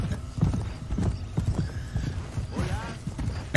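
A horse galloping in the Red Dead Redemption video game: rhythmic, close clip-clop hoofbeats pound steadily throughout, with a whinny about two-thirds of the way in and a voice speaking briefly over the hooves.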